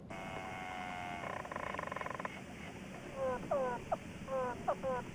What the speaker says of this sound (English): The latest technology can now intercept insect communications.